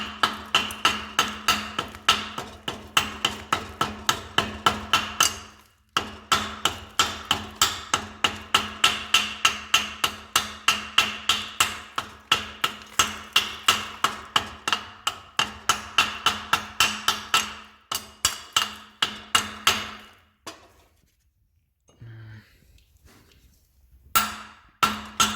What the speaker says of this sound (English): I just use my hammer to kind of go over it